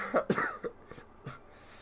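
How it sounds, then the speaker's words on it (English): A few short, close coughs in quick succession, followed by softer throat noises and breathing. "if you hear me coughing or sniffling in this episode"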